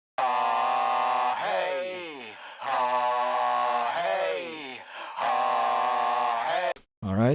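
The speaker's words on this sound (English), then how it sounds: "that's the telephone effect." Music processed with a telephone effect at full mix sounds thin, buzzy and band-limited, with gliding, voice-like melodic phrases in several bursts separated by brief dips, ending in a short pause and a clipped fragment.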